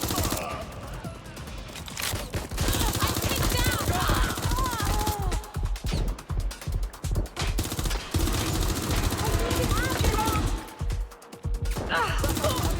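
Heavy gunfire after a suspect opens fire, sustained loud volleys of shots and crashing impacts close by, with shouted voices mixed through the chaos.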